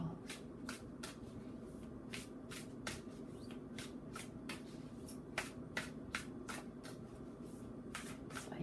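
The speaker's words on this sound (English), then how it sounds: "I am shuffling with my left hand." Tarot cards being shuffled steadily in a rapid, regular run of crisp riffling flicks, close and quiet, with no talking.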